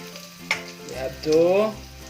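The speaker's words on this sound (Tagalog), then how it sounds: "Now you can add the ginger." Ginger frying in oil with onion and garlic in a pan for chicken adobo with coconut milk: a brief sizzle with a sharp tick, accompanied by soft tonal sounds in the background.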